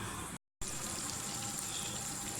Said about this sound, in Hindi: आए अब इसको फ्राई करते हैं।